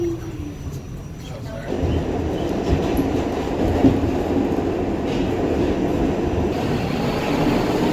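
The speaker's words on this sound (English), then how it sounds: "So there goes my A train" A New York City subway A train rumbles past steadily with a dense, roaring rattle of wheels on track, loud and close throughout.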